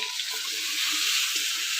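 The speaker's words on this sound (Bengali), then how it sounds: "এদিকে বেগুন আস্তে আস্তে ভাজা হোক" Eggplant pieces fry in a pan seasoned with salt and turmeric, giving a steady, close sizzle that holds at an even level throughout, with no talking.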